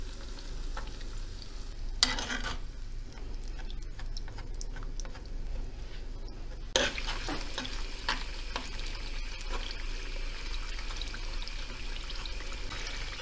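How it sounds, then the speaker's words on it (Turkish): Pepper paste and tomato paste frying with onions in a pan, with a steady close sizzle under sharp spoon scrapes and stirring knocks, and no voices. "Şimdi bu salçaları bir güzel kavuralım soğanla birlikte."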